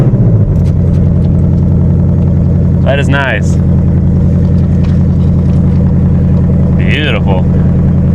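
A 2021 Dodge Challenger Hellcat Redeye with 61,000 miles idles with a steady, loud, deep rumble that runs the whole time, and someone talks briefly over it.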